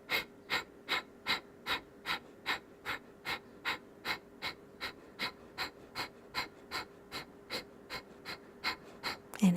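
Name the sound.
forceful nasal exhales in yoga breathing exercise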